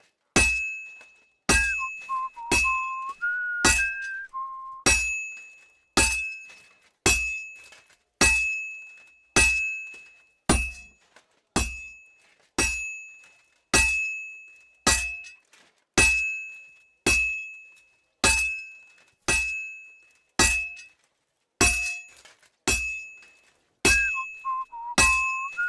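Weapon forging in the video game Kingdom Come Deliverance II: a hammer strikes metal on an anvil in a long steady series of ringing clangs about one per second, each fading out, with a few brief tonal game cues between blows.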